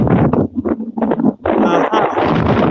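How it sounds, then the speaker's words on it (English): Gusty wind buffets the microphone in rough, loud bursts, mixed with a voice speaking in choppy fragments. "Sound like it's a little bit windy there for you today."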